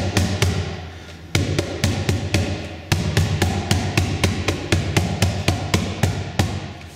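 A cajon struck by hand near its upper corner, giving a steady series of sharp, crisp slaps with a solid low thump underneath, played alone in an even rhythm at close range.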